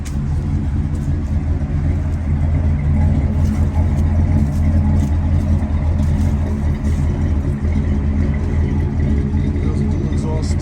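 A 1977 Chevrolet Impala Estate wagon with a 350 V8 and dual exhaust idles and runs, giving a steady, loud low rumble with a pulsing burble that continues evenly throughout.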